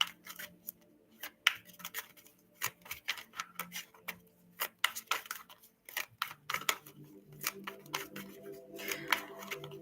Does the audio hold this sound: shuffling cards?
yes